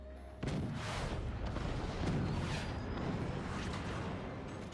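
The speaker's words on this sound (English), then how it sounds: "those cannons, they penetrate so deep when they line up their shots" Cannons in a video game fire in a dense, continuous barrage of booms with a whooshing edge, loud and close, and no talk over it.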